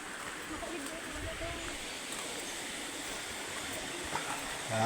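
Santa Teresa Busay Falls in Malilipot, Albay, gives off a constant, broad rush of falling water that fills the scene evenly from start to finish, with no pauses.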